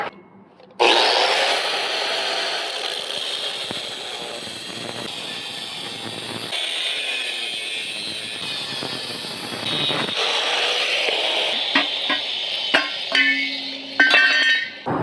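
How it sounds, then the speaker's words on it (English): Old kids' bike frame cut into pieces with a power cutting tool, a loud continuous grinding whine with rasping, shifting bite as the blade works through the metal tubes, starting abruptly and running steadily with no talk. "go ahead and cut this frame into pieces like it's our last resort"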